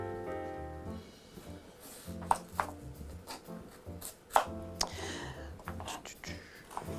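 A knife chops vegetables small on a cutting board for roasting, a steady run of close, crisp knocks with a few louder strikes, while people talk over it.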